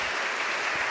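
A quick burst of applause for the New York Junior League at its annual meeting, an unbroken wash of many hands clapping at steady volume.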